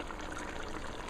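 Water poured into a pot of simmering tomato fish stew, a soft, steady splashing trickle that runs unbroken and fairly quiet, with no talk.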